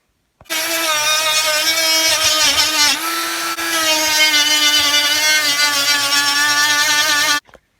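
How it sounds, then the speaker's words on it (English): A power tool sands the edges of a live-edge wooden cowboy hat, its motor whining steadily and loudly for about seven seconds with a brief dip in pitch partway through as it bears on the wood. "Now I'm going to try to sand the edges."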